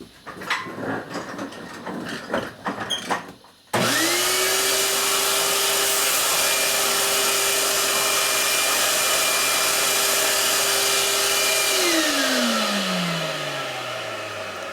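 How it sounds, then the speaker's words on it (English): A vacuum cleaner gives a steady, loud motor whine with a constant pitch for about eight seconds, starting abruptly after some clatter and winding down at the end. "That was a quiet vacuum."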